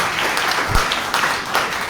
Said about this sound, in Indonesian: Yang setuju tepuk tangan bagi lagi.